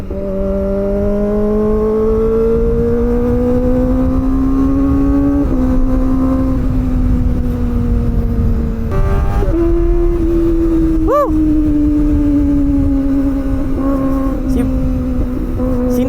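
A Kawasaki ZX-25R four-cylinder motorcycle engine, loud and close, holding a high smooth whine that climbs and dips with throttle and shifts, with a sharp rev blip midway.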